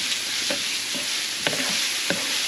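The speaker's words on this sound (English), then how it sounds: "I'm going to saute the vegetable" Garlic sautéing in a frying pan with vegetables, a steady close sizzle broken by a few soft scrapes of a stirring utensil, with no talking.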